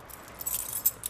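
A set of car keys jangling as they are handed over indoors, brief light metallic clinks scattered over a second, close and fairly quiet.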